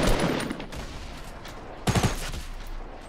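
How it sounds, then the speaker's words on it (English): Gunfire in the Fortnite battle royale game: a quick burst of several rapid shots among ongoing game noise, with a louder cluster of shots near the end. "Keep shooting,"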